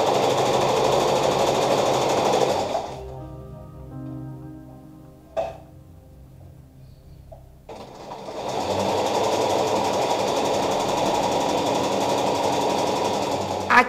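Domestic sewing machine stitching a blouse seam, running in two loud, steady whirring bursts separated by a quiet pause with a brief click.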